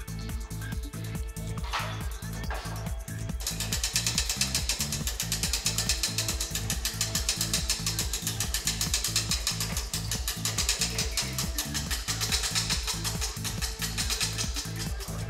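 A hand ratchet clicks in quick, steady runs while bolts are tightened on the crossbeam of a TWIN BUSCH clear floor car lift during assembly, close and prominent, with a faint metallic clatter near the start and no talk.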